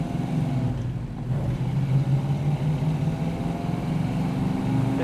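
A 1968 Dodge Charger with a 440 cubic inch big block V8 and six-speed drives along, its deep steady engine rumble heard from inside the car, droning continuously with slight shifts in pitch and no talking.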